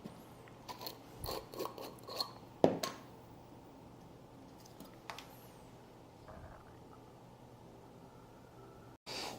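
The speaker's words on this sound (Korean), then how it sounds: "이쪽은 가위로 잘라서 깔끔히 맞춰버리시면 됩니다" Scissors snip leather for a zipper card wallet, a quick run of close, crisp cuts that settles into faint rubbing and handling noise, with no talk.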